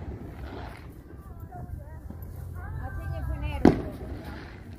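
A single sharp firework bang at a party, heard at a distance with muffled pops and background chatter, and people talking nearby throughout.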